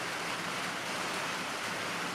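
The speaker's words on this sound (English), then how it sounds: "It's raining again." Rain falling on a March morning around a garden and greenhouse: a steady, even hiss of rainfall with no variation, moderately soft, with no voices.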